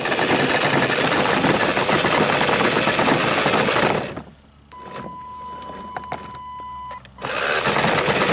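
Electric motor in a homemade RC Power Wheels Ford Bronco, heard as a loud, steady whir with a brief pause and a fainter whine in the middle before it spins back up.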